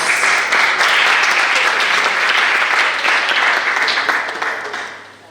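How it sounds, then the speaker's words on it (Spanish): Loud, dense applause from a lecture audience at an improvisation pedagogy conference fills the room for about five seconds, then fades toward the end, with no talk over it. "Aplausos para ustedes."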